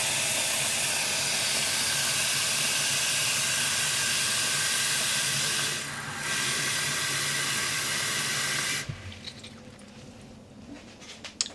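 Water runs steadily and loudly into a container of about two liters for yarn dyeing, a continuous rushing hiss that briefly dips midway and then stops abruptly, leaving quiet room noise.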